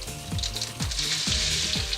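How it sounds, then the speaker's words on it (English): Mustard, cumin and fenugreek seeds sizzle and crackle steadily in hot oil in a wok, a loud, continuous frying hiss with no voices. "in a wok, she sizzles mustard seeds, cumin seeds and a small amount of fenugreek seeds"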